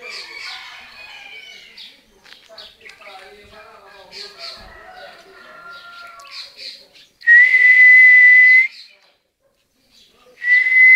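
A person whistles sharp, rising calls imitating a hen turkey in a rural backyard, and a turkey answers with gobbling; two strong whistled notes stand out near the end, with people talking in between.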